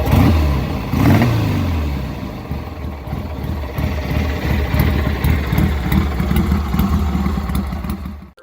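A Kawasaki W-series motorcycle engine running, a Japanese twin, with a deep, throbbing low rumble and a steady mechanical beat, loud and close, held for about eight seconds before cutting off abruptly.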